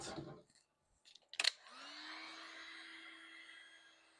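A heat gun shrinking heat shrink tubing over a car audio capacitor, a click and brief clatter followed by a steady airy blower hiss with a faint whine, heard close and alone.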